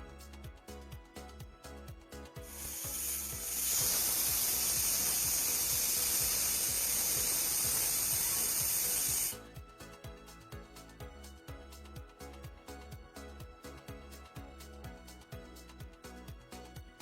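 A pressure cooker of beef on the stove lets out one long hissing whistle of steam lasting several seconds, rising sharply, holding, then cutting off abruptly, with quieter kitchen noise before and after.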